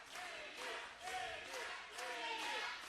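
Crowd at a women's pro wrestling event chanting for Mia Friday and Emmy Camacho, rhythmic rising and falling voices repeating in waves, loud and distant-sounding across the arena.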